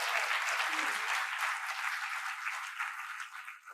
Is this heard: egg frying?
no